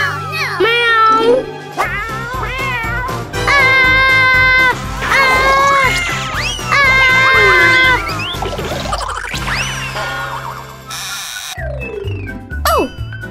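Cartoonish meowing calls rise and fall repeatedly over a busy musical background with effects, loud and close, with voices mixed in.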